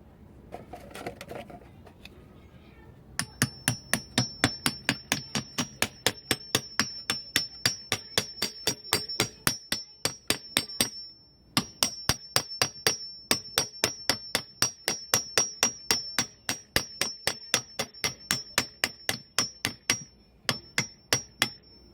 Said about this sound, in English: Now I'll gently hammer this in.